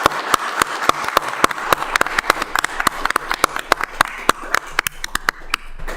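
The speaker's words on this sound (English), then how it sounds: "let's have a big round of applause for all the work that they've done" Applause from the audience at a city council meeting: sparse individual hand claps that come in an irregular, uneven patter and fade toward the end, close and with no voices over them.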